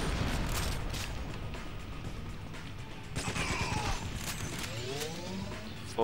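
Pistol gunfire in GoldenEye: Rogue Agent, with sharp shots and crashing bursts over a steady, dense game-action din. The shots come in clusters, most strongly mid-clip.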